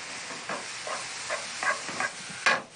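Flour cooking in a pan, quiet irregular scraping and stirring strokes with a soft sizzle underneath, each stroke a short burst at an uneven rhythm.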